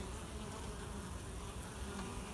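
Honey bees, both workers and drones, buzz around a hive in a dense, steady drone of many wings close by, with no pauses and no voices.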